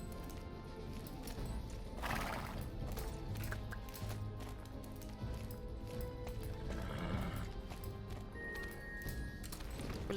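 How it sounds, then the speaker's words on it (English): Hooves clip-clop at a gallop in the Star Stable video game, with a horse neighing now and then over a busy, steady game soundtrack as the rider pushes hard and crashes into obstacles. "I'm just going to push my horse to a limit."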